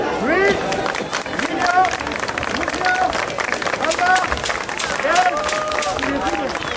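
Spectators at an outdoor medieval festival's fifteenth-century re-enactment exhibition in Villena clap in a sustained ripple, mixed with crowd chatter and nearby voices.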